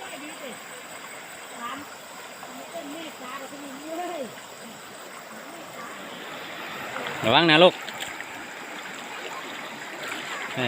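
A shallow, cool stream flows at Had Nam Dang in Pong district, Phayao, making a steady, soft rushing wash throughout. People talk over the water, and a louder voice breaks in briefly near the end.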